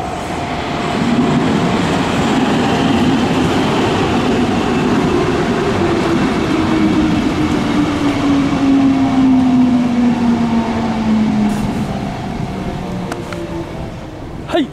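A Kintetsu Nagano Line train pulls into a station, its loud steady rumble and rail noise filling the whole stretch with a falling tone as it slows, easing slightly toward the end.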